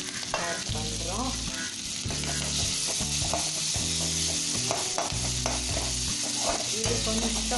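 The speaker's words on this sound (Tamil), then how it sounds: "போட்டுட்டு வெங்காயம் ஆட் பண்ணுறோம்." Onions frying in oil with chana dal and asafoetida for rava upma, a loud steady sizzle broken by repeated spatula scrapes and stirs against the pan, with a low hum beneath.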